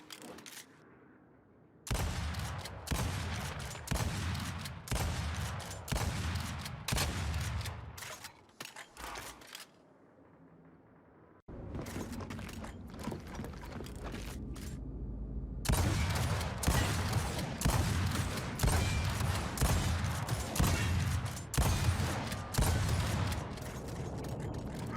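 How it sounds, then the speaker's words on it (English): Nasher shotgun in Gears 5 firing repeatedly with the trigger held, a steady stream of loud blasts with mechanical reload clacks between shots, broken by two short pauses before fire resumes, no talking. "I'm not saying anyone would ever use a Nasher in this way, but I'm trying to show the rate of fire has been slowed down for Gears 5."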